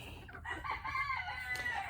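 A backyard rooster crows once in a drawn-out, wavering call lasting about a second, fairly close, with soft clucking and ambient farmyard noise around it and no talking.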